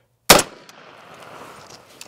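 A single loud 7.62x39 rifle shot firing a Fiocchi FMJ round at a body armor plate, a sharp close crack followed by a short fading echo and quiet outdoor ambience.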